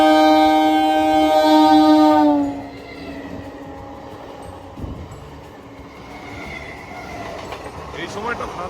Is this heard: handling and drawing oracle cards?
no